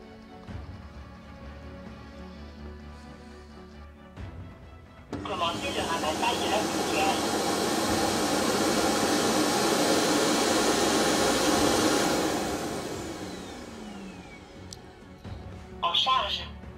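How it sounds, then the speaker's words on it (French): An Ultenic T10 robot vacuum docks at its base station and self-empties with a loud, sustained suction roar of about seven seconds that rises abruptly, holds, then fades away, framed by quieter mechanical whirring before and after. "Là, il va normalement rentrer à sa base et s'auto-vider."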